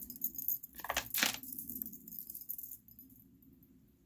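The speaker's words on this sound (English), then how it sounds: "roll the beads off, and that'll give you enough play to unwrap" Mala prayer beads roll and clatter off a wrist as the strand is loosened for unwrapping, giving a close, brief rattling burst near the middle before fading to quiet handling.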